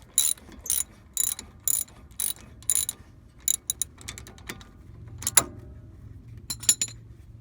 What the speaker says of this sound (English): Going to remove one bolt up top, and then there's one at the bottom.